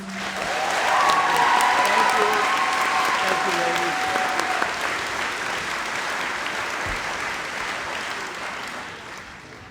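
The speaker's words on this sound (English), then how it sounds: "have one more round of applause for all of them" Audience applause at a Class Day ceremony, a full sustained roar of clapping that swells early and slowly fades, with a voice briefly heard over it near the start.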